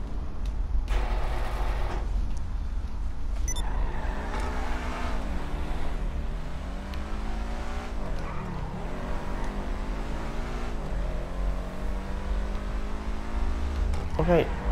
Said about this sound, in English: it's backfiring like mad, which I like